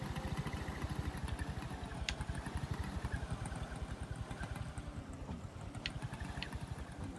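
A small boat engine chugging steadily while cruising around in the fishing game Moonglow Bay, a fast regular puttering pulse at moderate volume with faint clicks above.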